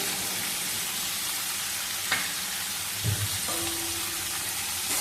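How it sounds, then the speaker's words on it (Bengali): Mixed vegetables fry in a pan after salt is added, giving a steady close sizzle throughout, broken by a couple of brief knocks and a short scrape as they are stirred. "নুনটা দিয়ে একটু নেড়ে নেব।"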